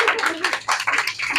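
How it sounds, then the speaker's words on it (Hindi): A group of students claps in a classroom, giving dense, continuous rapid applause at close range with no clear pauses. "ताली बजाओ तो लोग"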